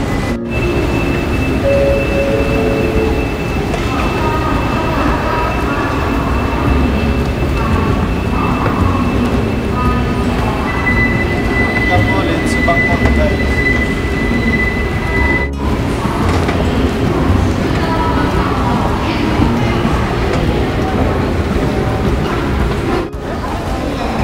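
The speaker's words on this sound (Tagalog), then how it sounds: "kung paano sumakay ng metro" Bangkok's airport rail line from Suvarnabhumi toward Phaya Thai rides on its rails with a loud, constant rumble and rush, faint squeals and clicks of wheels running through the whole ride, heard from inside the car.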